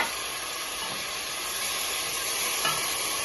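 Tomato paste and sweet paprika sautéing in a pot for Turkish tarhana soup, giving a constant, even hiss of frying close by, no one talking.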